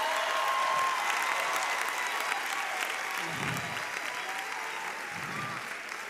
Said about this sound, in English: Please, a round of applause for my mommy.